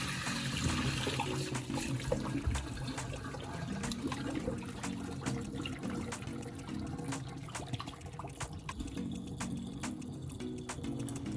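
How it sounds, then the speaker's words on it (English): Running tap water splashing and gurgling into a pot, steady and close, with clinks and knocks of pork trotters being rinsed in cold water. "Let's fill the pot up with the cold water and give it a good rinse."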